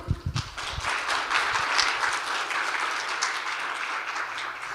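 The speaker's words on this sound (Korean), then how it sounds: "뜨거운 박수로 환영해 주십시오." A conference audience at a Dong-A University innovation forum applauds steadily to welcome a Mongolian student presenter, a dense wash of clapping that starts with a few louder close claps and holds even for several seconds.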